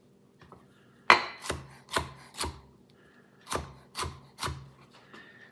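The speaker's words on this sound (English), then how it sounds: "You notice how much easier it cuts when you cut it from the inside of the pepper" A sharp knife chops through bell pepper on a cutting board, with about seven distinct crisp thuds in an uneven rhythm, close and clear with no talking.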